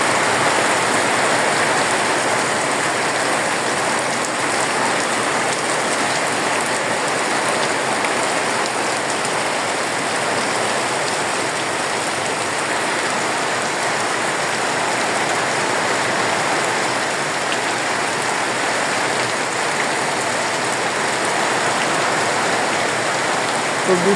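Heavy rain pours steadily and loudly, a dense unbroken hiss of drops drumming on surfaces close by, with no pauses or voices for the whole stretch.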